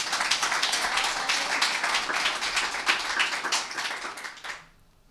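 An audience at a political speech gives sustained applause, dense and loud clapping for about four and a half seconds before it quickly dies away, with no voices over it.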